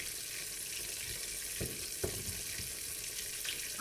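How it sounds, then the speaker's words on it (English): Onions fry in butter in a pan with a steady, soft bubbling sizzle, broken by a couple of faint clicks or taps from utensils near the pan. "just put them in some butter and just fry them until the onion is soft"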